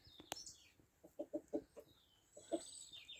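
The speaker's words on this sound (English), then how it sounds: "A little bit of mixed corn spread around there for them. They're quite content pecking away." Backyard chickens cluck in a short burst of soft, rhythmic notes while pecking at mixed corn spread on the ground, with faint birdsong and a quiet outdoor background.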